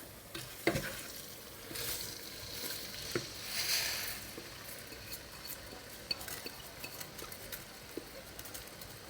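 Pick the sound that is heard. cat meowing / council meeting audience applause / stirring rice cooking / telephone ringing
stirring rice cooking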